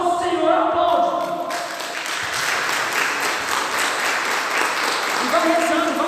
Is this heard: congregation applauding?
yes